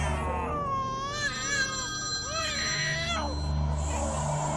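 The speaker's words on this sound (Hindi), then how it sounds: "तुम्हारा फोन बज रहा है" A melodic electronic phone ringtone plays in repeated rising and falling phrases, fairly loud against a low hum.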